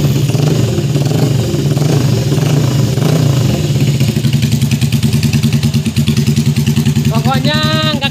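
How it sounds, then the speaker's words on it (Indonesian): Budget Harley-style motorcycle engine revving loudly close by, a deep steady throb that builds into faster, harder pulsing before a rising rev at the end. "Jadi suaranya lumayan gahar lah ya. Cek saja, gaspol."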